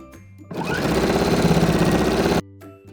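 A domestic sewing machine with a B-foot runs a steady, fast burst of stitching along a dress hem, a loud even mechanical whirr lasting about two seconds between quiet pauses.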